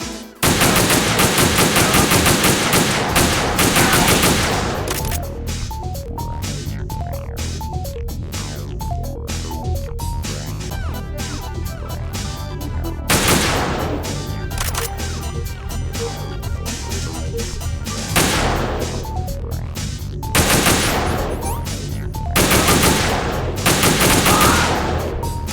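Sustained automatic gunfire while shooting enemies in Metal Gear Solid 2 VR missions, loud and continuous bursts of rapid shots layered over game music, with brief lulls between volleys.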